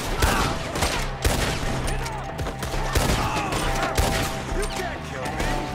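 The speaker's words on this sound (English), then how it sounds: "Shoot the ones up there!" Rapid, overlapping gunfire in a Red Dead Redemption 2 shootout, dense volleys of shots cracking close and loud throughout, with shouted voices breaking through the fusillade.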